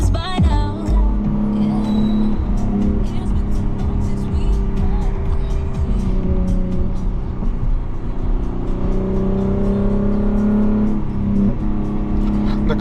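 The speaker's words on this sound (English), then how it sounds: "The car sounds wonderful." A straight-piped Lexus IS250 with no mufflers, heard from inside while driving: a loud, steady exhaust drone with rising and falling engine tones as the car accelerates and cruises.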